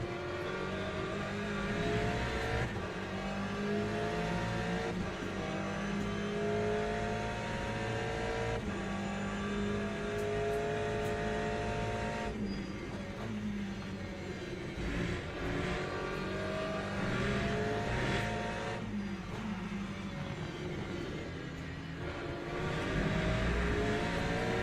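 Hypercar and GTE race car engines in a WEC racing video game roar and rev continuously, shifting pitch through gear changes and passes, a steady dense drone of several cars without talk.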